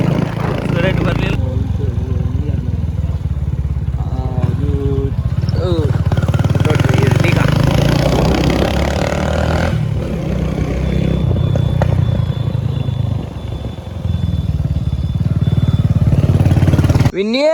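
A Yamaha RX 100 motorcycle, newly brought home, runs with a steady, loud engine rumble throughout, with people talking over it.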